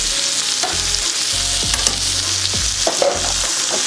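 A coffee-rubbed steak sizzles loudly in a pan while melted butter is spooned over it, a dense close hiss with soft clanks and spoon scrapes against the metal, no voices.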